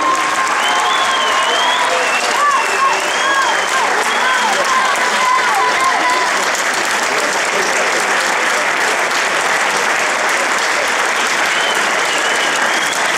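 Crowd at a youth rugby tournament prize-giving warmly applauding the SCO d'Angers under-15 winners: sustained, loud, dense clapping with a few whistles and cheers near the start, steady to the end.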